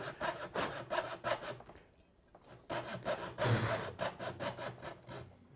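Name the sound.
thin-bladed frame hand saw cutting wood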